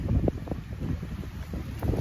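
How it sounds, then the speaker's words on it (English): Strong cold gusty wind buffeting the microphone outdoors, a steady low roar with rough surges and flutters throughout. "It's windy, it's cold here."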